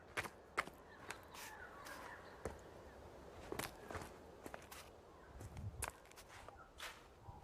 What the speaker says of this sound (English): now I can hear the birds